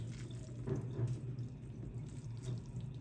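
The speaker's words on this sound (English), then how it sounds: "it just makes me feel better to like rinse off the juice" Tap water runs steadily over crab meat in a strainer, a soft continuous splashing rush with small drips and spatters, fairly quiet and without talk.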